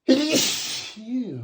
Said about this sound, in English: I'm so sorry for all the sneezing.